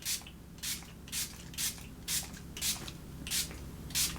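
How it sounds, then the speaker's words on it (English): LA Girl makeup setting spray mists out in eight short, even bursts, each a soft airy hiss about half a second apart, close and clear with quiet gaps between. "I'm going to be using the LA Girl setting spray."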